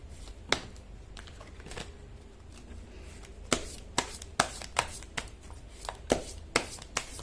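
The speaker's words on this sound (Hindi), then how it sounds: "कर लेती हूँ कार्ड की शफलिंग।" Tarot cards shuffled by hand during a reading, giving soft, close riffles and scattered sharp flicks and taps that grow more frequent toward the end, with a quiet background and no talking.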